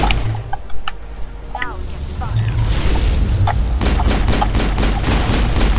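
Sustained gunfire from the Mass Effect video game, with dense rapid shots and booms growing louder and steadier through the second half, mixed with game effects throughout.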